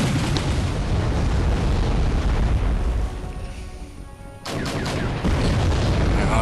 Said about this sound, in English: my Bradley's shooting, but it's taking heavy damage from this thing